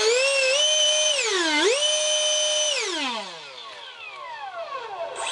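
A 70mm electric ducted fan in a foam jet thrust tube runs up to a loud, piercing whine, dips and surges in pitch, then spools down with a falling howl, close and alone.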